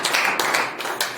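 Brief burst of applause from a group of students at a school talk, dense overlapping claps sounding close and steady for about a second with no voices over it.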